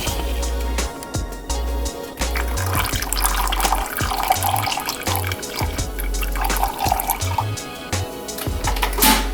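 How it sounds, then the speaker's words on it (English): Warm water poured into a sourdough starter jar, a steady splashing trickle with small drips, heard close and fairly loud with a low rhythmic musical bed underneath. "And then you'll enter 50 milliliters of warm water."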